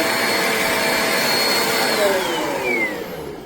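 A Eureka Airspeed ultra-lightweight compact bagless upright vacuum cleaner runs with a steady, loud motor whine and airflow roar, its pitch sliding as it moves, easing off slightly near the end.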